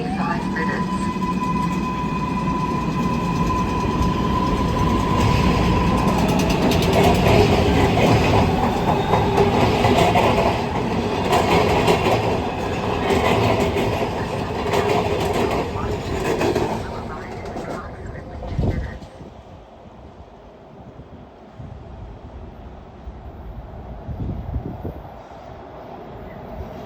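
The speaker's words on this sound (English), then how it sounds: "A sundown gold line train is approaching" MARTA gold line train arriving at West End station, a loud rolling rumble with clattering wheels and a sustained squealing tone that swells, then fades as the train slows, leaving quieter platform ambience.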